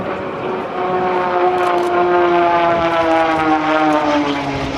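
A propeller aerobatic airplane drones loudly overhead at the 2012 NAS Oceana Airshow, its engine note steady and buzzing with a slight pitch shift as it rolls upside down and spins toward the runway.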